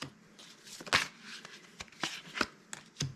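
A deck of tarot cards being shuffled by hand, with several crisp riffling and slapping bursts at uneven intervals, close and fairly quiet, with no talking.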